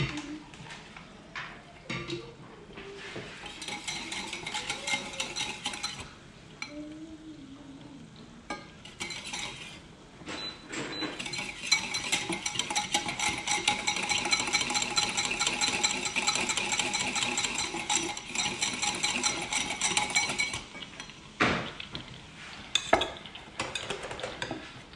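A whisk scrapes and clatters rapidly against a saucepan of melted butter, in bursts of busy metallic stirring with brief pauses between them, close and fairly loud, with a faint sizzle underneath.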